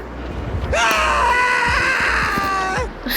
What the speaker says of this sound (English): stop shouting like a damn maniac.